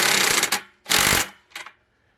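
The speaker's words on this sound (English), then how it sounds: "use my little DeWalt impact to" A small DeWalt impact driver fires three short loud bursts up close while tightening a solar panel bolt, each burst separated by a brief pause, the last one shortest.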